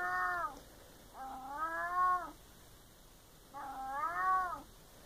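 A cat lets out three long, drawn-out meows, close and clear, separated by short quiet pauses.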